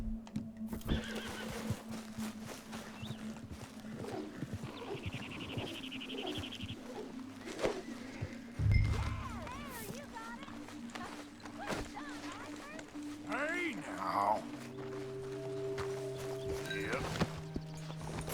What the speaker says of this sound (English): you couldn't help me get my other horse back from over there